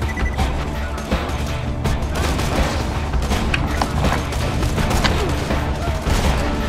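Dense gunfire fills a Borderlands 2 four-player co-op fight, with rapid bursts, heavy booms and crashes layered in a loud, unbroken barrage.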